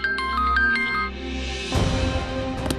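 A mobile phone plays a melodic electronic ringtone, bright repeating tones over a softer backing, followed by a fuller burst of music and clatter in an indoor household scene from a Hindi TV drama.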